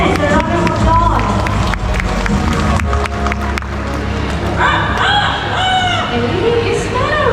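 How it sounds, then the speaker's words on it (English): A rooster crows in a series of rising calls within a noisy bird park aviary, heard amid crowd chatter and people talking in the background. "Hey, is that a rooster?"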